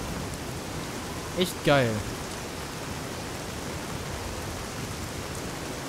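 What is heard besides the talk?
rain falling in video game Fallout: New Vegas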